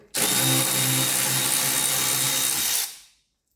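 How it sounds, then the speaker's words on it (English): Power tool undoing Torx bolts on the suspension of a Mark 5 Ford Mondeo during wishbone replacement, one loud continuous whirring burst of about three seconds close up, then it stops abruptly. "undo these Torx bits. There's one back here."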